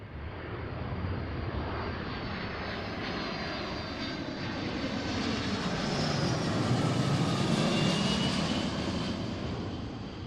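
Boeing 757 airliner engines landing at Seattle: a loud, continuous roar that swells gradually and then eases slightly, with no talking.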